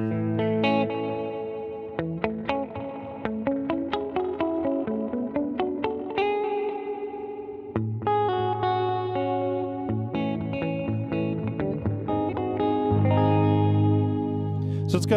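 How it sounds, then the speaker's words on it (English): An electric guitar played clean through a delay/echo pedal with the amp reverb off; picked notes and chords ring out with repeating echo tails that swirl and sustain behind the playing. "This one kind of replicates a little bit of that, the delay slash echo sound on it."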